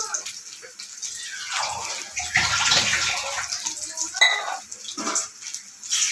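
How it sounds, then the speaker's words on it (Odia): Water poured into a pot of potato masala curry for pond kau fish, a steady close splashing and rushing pour with some gurgling, louder in the middle, and faint voice in the background. "ଏବେ ତରକାରୀ ପାଣି ଦେବା ଆଳୁ ମସଲା ଦେହରେ"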